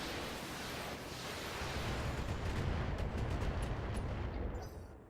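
A volley of LRM missiles launches in the BattleTech video game, a dense continuous rumbling roar of overlapping rocket fire that swells through the middle and holds loud throughout, with no talking.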